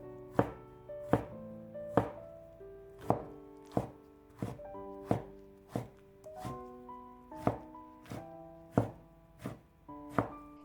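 Knife chopping peeled tomato into small dice on a cutting board, about a dozen sharp, evenly spaced thunks close by, ringing slightly, no talk.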